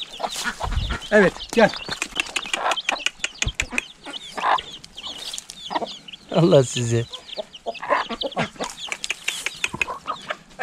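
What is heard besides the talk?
newly hatched chicks and chickens clucking while being fed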